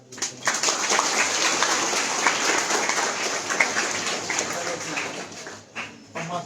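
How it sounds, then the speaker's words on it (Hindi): A class of schoolchildren in a smart classroom claps in a sustained burst of scattered, rain-like applause that tapers off near the end. "ताली बजा दीजिए"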